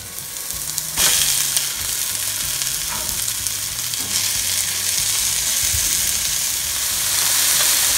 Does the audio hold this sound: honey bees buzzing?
no